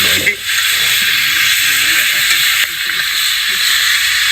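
Hot oil for an egg curry hisses loudly and steadily in a pan, a broad sizzling wash with a person talking underneath throughout.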